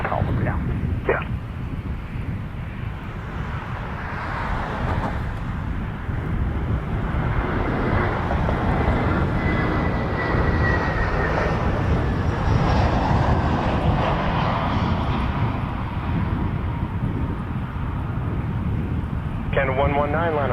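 An airliner taking off from runway 24 right at Toronto Pearson, a loud, continuous broadband jet roar that holds steady across the whole stretch, with wind buffeting and faint radio voices underneath.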